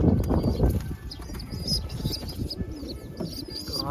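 Pigeons kept in a backyard pigeon-keeping setup coo softly and repeatedly, with a low burbling rhythm and scattered chirps around them. The sound is close and continuous, and no one speaks.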